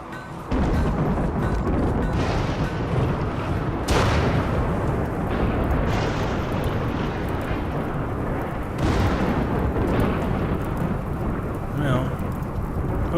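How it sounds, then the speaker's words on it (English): Thunderstorm in the RimWorld colony game: a steady rain-like rush broken by two or three loud, rolling thunder crashes, near and full, with no voice over it. "Thunderstorms."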